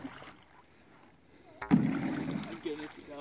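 A pole strikes the water beside an old boat found in the woods, giving a sudden splash and sloshing after a quiet start, with people speaking around it.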